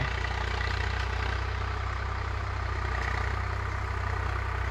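A Swaraj 744 FE tractor runs at a steady idle while being parked, a low, even diesel drone close by with no change in pace and no voices.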